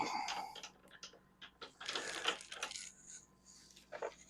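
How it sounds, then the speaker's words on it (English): Bullet seated into a cartridge case while reloading ammunition: a quiet cluster of small metallic clicks and clinks from a press, irregular and close, with no talking. "But now we've got to get ready to start and seat the bullet."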